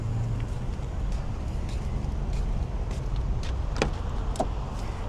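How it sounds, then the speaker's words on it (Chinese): A Mercedes R129 300SL with a faulty fuel distributor: steady vehicle and cabin noise with a few sharp clicks and thumps as someone gets in and handles the controls, no engine catch clearly heard. "我们现在到车子里面来发动"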